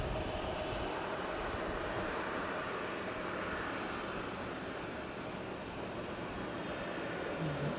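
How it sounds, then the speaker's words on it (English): Jet airliner at Fukuoka Airport holding at the far end of the second runway before takeoff, a steady distant engine roar with broadband rumble, continuous and unchanging throughout with no voices. "Got someone right down the end there, looking like they're going to take off on the second runway."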